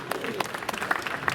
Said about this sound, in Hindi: एक बार जोरदार ताली है रणविजय के लिए